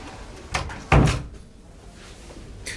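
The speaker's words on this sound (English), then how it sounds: "Shut the door, Susan." An indoor door is pushed shut with one loud, close thud, followed by a short fading rattle and a quiet room.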